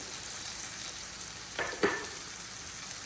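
Crushed ginger and garlic hit hot oil with softened onions in a pan, giving a steady low sizzle with a couple of brief louder crackles and stirs partway through, no voices.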